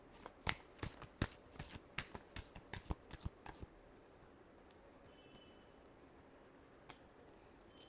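A deck of cards is shuffled in a quick burst of crisp riffling snaps during the first half, then the room falls to a quiet hush, without speech.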